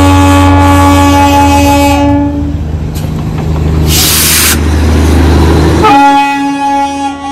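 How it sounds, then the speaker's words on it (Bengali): A diesel locomotive at Batasia Loop near Darjeeling, loud and close, with a strong steady engine drone and a long horn blast. Brief hissing spray and rumble follow before the tone drops and shifts. "এটা ডিজেল ইঞ্জিন, এখন আর কয়লার ইঞ্জিনটা দেখা যায় না।"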